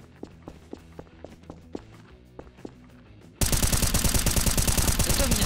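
Gunfire in the sandbox video game Garry's Mod: a few spaced single shots, then a sudden loud burst of rapid automatic fire sustained to the end.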